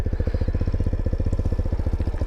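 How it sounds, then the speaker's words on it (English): A 2026 Grom clone mini motorcycle engine runs at a steady idle with a rapid, even putter of firing pulses, close and fairly loud, while its exhaust smokes. "Because, I mean, the engine's running."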